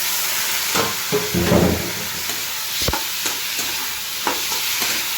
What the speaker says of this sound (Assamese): আলুখিনি অলপমান ভাজি লওঁ।